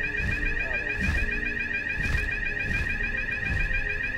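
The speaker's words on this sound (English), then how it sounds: "Just some fire alarm testing" A building fire alarm being tested sounds a loud, continuous high electronic tone with a pulsing beat, steady and close throughout, while gameplay audio runs faintly underneath.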